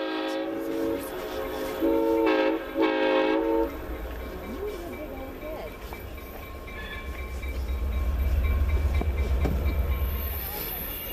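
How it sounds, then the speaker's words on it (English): Diesel locomotives, led by a restored Clinchfield F7, rumble past pulling a train, with loud repeated horn blasts at first, then a deep heavy engine roar and rolling wheel noise building up. "Restored Clinchfield F7 No. 800 was pulling the train"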